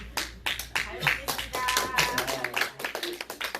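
A standing church congregation claps together in a service, irregular applause rising under a voice speaking over it.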